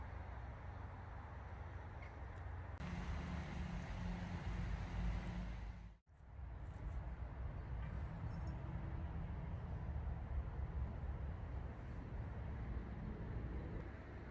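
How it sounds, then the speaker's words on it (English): Steady road traffic rumbles in the distance behind a riverside wild swimming spot in the UK, a low continuous wash with a brief dropout partway through. "You've got some noise from the traffic behind"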